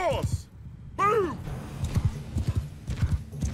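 Horse hooves clip-clop in a Mount & Blade 2 battle with a Game of Thrones mod, a steady run of hoofbeats joined by a whinny, with a voice talking over them.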